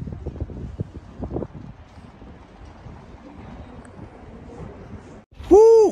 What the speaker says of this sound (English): Windy and cold again here outside.